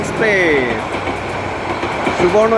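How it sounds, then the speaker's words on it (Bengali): Subarna Express passenger train pulling into Airport railway station, a loud steady rumble of wheels and carriages with squeals close by, and a voice speaking over it. "আমি কথা বলতে বলতেই ট্রেন চলে এসছে"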